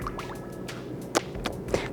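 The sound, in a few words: pouring butter into a bowl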